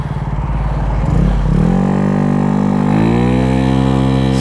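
GY6 150cc carbureted scooter engine runs steadily and loud, clattering at first then rising in pitch as it revs up and holds a sustained drone while riding.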